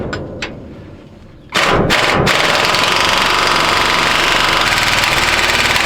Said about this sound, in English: So we're just gonna grab the impact and see if we can get them out with an impact.